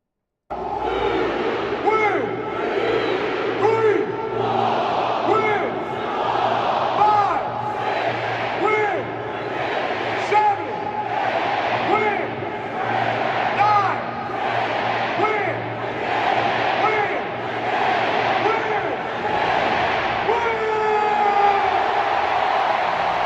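A big stadium crowd roars through a halftime ceremony at a Saints game against the Broncos, with a sustained rolling cheer and rhythmic swells and a voice talking over the noise.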